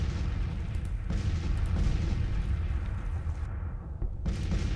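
Cannon fire rumbles through a Civil War battle at Missionary Ridge in a strategy game, a continuous low booming roar with distant overlapping blasts, fairly faint and steady.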